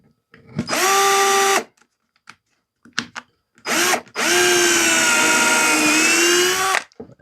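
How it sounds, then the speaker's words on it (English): A loud power drill whirs in several bursts, pre-drilling through a knot in wood, short runs then a long sustained spin, close up with brief quiet gaps. "We're going to go ahead and pre-drill and"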